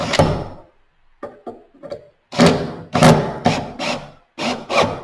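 Screws being driven into the bottom of a wooden pet feeding station, heard as a series of rough wood-on-metal rubbing and creaking bursts, some short and some sustained, close by with no talking.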